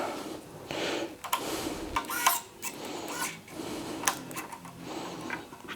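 Short metallic clicks and taps from screws being tightened inside an Alienware X51 gaming PC, a few separate ticks with quiet handling noise between them, close and fairly faint.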